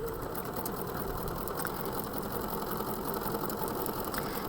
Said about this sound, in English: And again, I'm going to sew my 1/4 inch.